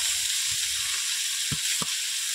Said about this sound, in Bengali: গুঁড়ো মাছ ভাজা হচ্ছে, নদীর গুঁড়ো মাছ।